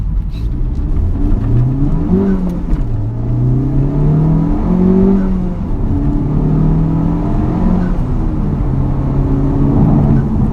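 A Honda Civic Type-R FK8 engine revs while driving, rising and falling pitch sweeps as it accelerates through gears, loud and close from inside the car, steady engine drone throughout.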